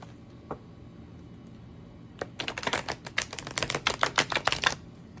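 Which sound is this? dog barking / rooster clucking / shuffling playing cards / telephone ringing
shuffling playing cards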